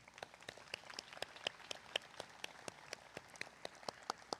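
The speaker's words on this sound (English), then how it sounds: "Please give our distinguished guests a round of applause." A sparse, scattered round of applause for distinguished guests at a university commencement ceremony, individual claps popping irregularly and fairly faint, as if from a thin crowd at some distance.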